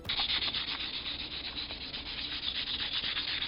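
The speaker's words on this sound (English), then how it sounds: "I'm gonna sand them a little bit, scuff them up a little bit so that I can paint them" Ornaments being sanded by hand to scuff them before painting, a close, continuous rough rubbing with a rhythmic back-and-forth scrape throughout, no voices.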